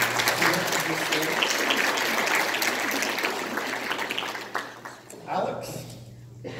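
Applause from a church audience welcoming a reverend to the stage, a broad sustained clapping wash that fades out toward the end as a voice begins.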